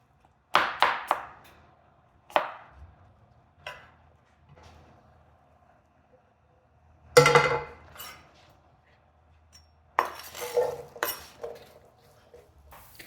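A knife cuts peeled apples into small cubes on a board, heard as scattered bursts of sharp chops with quiet gaps between them.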